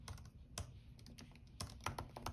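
Quick keystrokes on a computer keyboard while JavaScript code is typed, an uneven run of close, light clicks with brief pauses, no voices.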